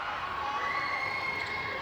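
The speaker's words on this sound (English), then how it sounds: "And there's the crowd" Crowd cheering at a youth netball world cup match between Scotland and New Zealand in Botswana, a steady, broad roar of many voices filling the whole moment without a break.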